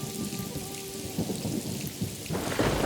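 Heavy rain pours steadily in a village, with low thunder rumbling beneath the constant hiss of the downpour.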